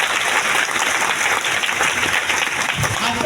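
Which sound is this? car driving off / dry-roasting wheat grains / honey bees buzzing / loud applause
loud applause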